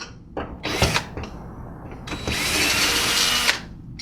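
A power drill backs screws out of a wall-side mounting bracket, with two short whirring bursts followed by a longer, steady run, close and fairly loud.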